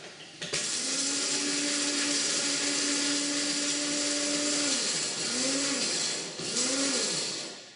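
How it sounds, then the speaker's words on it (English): Whole cardamom pods being ground for chai in an electric grinder, a loud continuous whirring motor that runs steadily for several seconds, then dips and surges twice near the end. "And grind it up."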